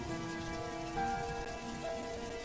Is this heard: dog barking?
no